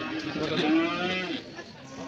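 Cattle moo with a drawn-out, deep call at a busy Saturday livestock market in Barahakshetra, Sunsari, eastern Nepal, rising and fading over background crowd noise.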